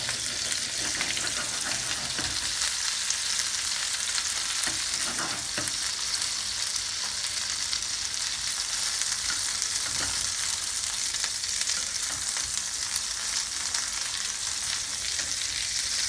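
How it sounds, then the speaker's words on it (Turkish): Pieces of boiled mumbar, stuffed offal sausage, fry in butter in a pan, giving a steady crackling sizzle with occasional stirring scrapes, close up and continuous. "haşlanmış iki parça bunları en azından servise sunmak için tereyağı da çevirmeye başlıyorum"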